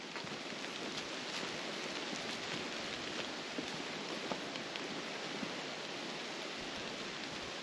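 Steady rain falls in a dense, even hiss on a hiking trail at Pictured Rocks National Lakeshore, with scattered drops pattering close by and no voices.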